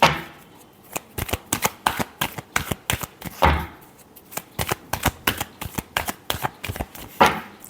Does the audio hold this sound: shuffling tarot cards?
yes